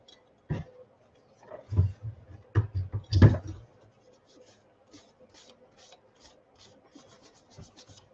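Acetone-soaked cloth rubbing paint off a geode, with a few short scraping swipes up close and then faint intermittent rubbing.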